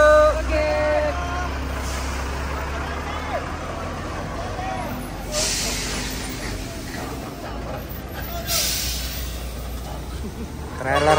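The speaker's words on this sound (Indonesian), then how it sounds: "ini dump truk yang akan membantu" A heavy dump truck rumbles at an overturned-truck accident scene, its low engine drone steady throughout while sharp air-brake hisses burst out twice, with voices and general commotion in the background.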